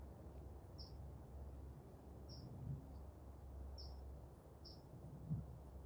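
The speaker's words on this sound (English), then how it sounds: "Hear the birds." Short, high bird chirps repeat about every second and a half over a steady low outdoor rumble, faint and distant.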